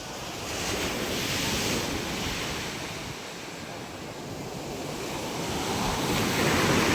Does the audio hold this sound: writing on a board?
no